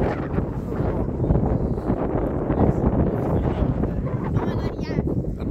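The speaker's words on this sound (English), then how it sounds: "if the audio is just wind. It's quite windy at the top of this hill" Strong wind buffets the microphone on the hilltop peak of Wansfell Pike with a constant low roar and rumble, gusting slightly but never letting up.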